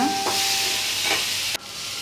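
Pirandai (adamant creeper) chutney ingredients sautéing in a pan give a steady close sizzling hiss, broken by a few brief scraping stirs.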